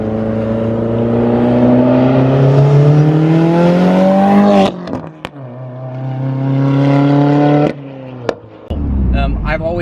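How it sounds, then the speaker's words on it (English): Catless Stage 3 Subaru WRX on the move, its engine pulling and rising in pitch, then turbo whooshes and sharp blow-off bursts between gear changes, loud and close, with voices heard over it. "All the turbo noises that you get from this thing, because I'm catless and stuff too,"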